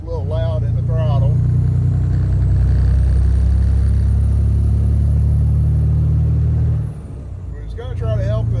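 A loud engine runs and revs steadily at close range with a heavy rumbling tone, briefly dropping off near the end, with a voice heard before and after.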